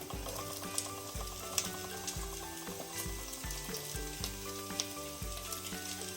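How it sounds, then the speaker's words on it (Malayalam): Small shallots fry in a pan for a Kerala-style squid roast, with a steady close sizzle and occasional clinks and scrapes as they are stirred. "നമുക്കതിനകത്തോട്ട് നമ്മുടെ ചെറിയുള്ളി ചേർത്ത് കൊടുക്കാം"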